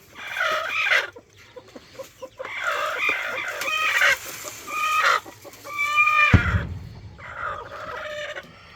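A hen close by: repeated clucking and calls in bursts with short pauses, plus a brief low thump in between.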